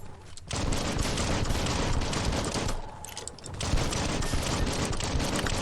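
Rapid bursts of gunfire in the action game Biomutant, dense mechanical rattling shots in a sustained stream with a brief pause midway before firing resumes, loud and close.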